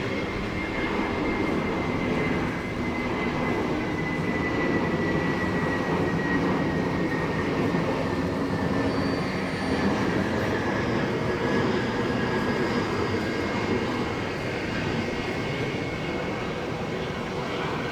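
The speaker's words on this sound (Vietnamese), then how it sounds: "Sau khi chiếc máy bay hạ cánh thì xong sẽ đến chiếc máy bay cất cánh." Airliners landing and taking off at Saigon airport make a steady, distant jet roar with a faint high whine, continuous and unbroken throughout with no voices.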